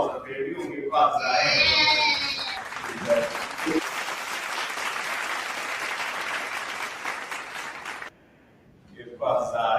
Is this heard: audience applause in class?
yes